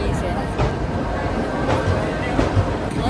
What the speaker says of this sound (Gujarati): કઈ જાય છે વેરાવળ રાજકોટ લોકલ